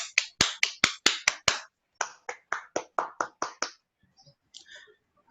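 Sharp, widely spaced claps at a Toastmasters club meeting in Bangladesh, two rhythmic runs of about eight loud, close hand-claps each, separated by a brief pause, then a few faint scattered sounds.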